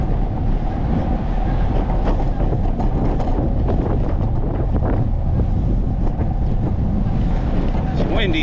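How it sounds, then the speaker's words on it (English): Steady wind buffeting the microphone, a constant rushing roar with low rumble throughout, gusty and loud the whole time. "It's windy"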